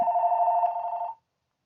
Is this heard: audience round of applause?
no